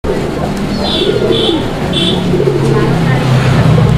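A pair of Lahori pigeons, a male and a female, coo in repeated low, rolling calls at a fancy pigeon fair. The birds are up close over constant busy background noise.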